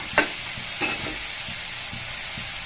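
Vegetables fry in a pan with spices such as turmeric, chili powder and garam masala for a vegetable kozhukattai filling. A steady close sizzle runs throughout, with a few light scraping stirs.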